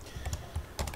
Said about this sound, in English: the keyboard sounds are actually pretty loud